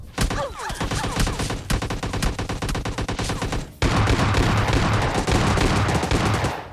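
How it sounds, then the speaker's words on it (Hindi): Rapid gunfire in a battle royale video game, dense volleys of automatic shots with a suppressed weapon nearby, loud and continuous, a brief pause then another sustained burst. "गन शॉट की आवाज भी आ रही है"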